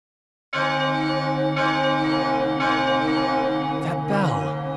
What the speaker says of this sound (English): bell. Is it coming from the clock tower?